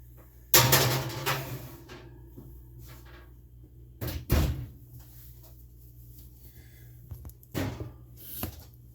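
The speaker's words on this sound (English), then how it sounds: "Let's get this in the oven here." A dish slides into a kitchen oven and the oven door shuts with a solid clunk. Two more sharp knocks follow, near and fairly loud over a quiet room.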